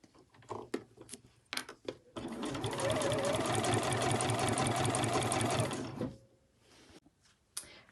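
A sewing machine stitches a pocket in place along the edge of a sewing machine cover, one steady burst of fast whirring lasting several seconds, with a few clicks and handling noises before and after.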